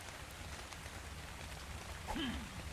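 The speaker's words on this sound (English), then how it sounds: "oh my god, it's raining" Steady rain falls in the survival game Ark: Survival Evolved as a continuous broadband hiss with no talk, and a brief louder sound rises near the end.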